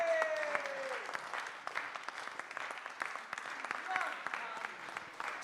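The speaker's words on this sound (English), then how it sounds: "one more round of applause for Steve West, everyone" Applause for Steve West at a darts finals night after he reaches Champions Week, a fairly faint, distant crowd clapping steadily with a little cheering.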